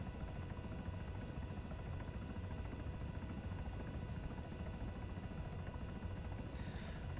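A CH-67 Huron helicopter in the video game ARMA 3 drones continuously with a steady, loud rotor and engine hum and no pauses, heard alone without talk.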